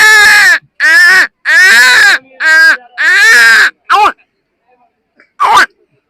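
A man mimics the caw of a crow in a rapid run of loud, harsh, nasal calls, five close together, then a short gap and two more separate caws.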